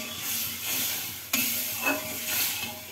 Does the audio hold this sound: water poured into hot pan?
yes